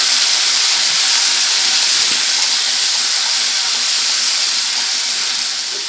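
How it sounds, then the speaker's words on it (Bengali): Tomatoes stir-fried with bori lentil dumplings in a hot pan for Bengali pui metuli throw up a loud, dense, unbroken sizzling hiss up close, easing slightly only at the very end. "দিয়ে আবারও একটু বড়ির সঙ্গে নাড়াচাড়া করে ভেজে নেব"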